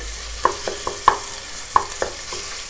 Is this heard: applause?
no